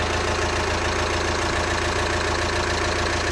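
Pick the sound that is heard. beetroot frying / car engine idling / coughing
car engine idling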